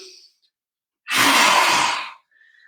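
A single deep, forceful breath rushes out in a loud, breathy whoosh lasting about a second during a yoga lion's breath exercise, with quiet before and after.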